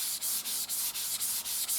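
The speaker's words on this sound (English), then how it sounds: "That's the sanding sealer coming off." Shellac sanding sealer being sanded off a wooden urn, a steady rasping rub with regular brief dips roughly every quarter second as the stroke reverses, close and alone.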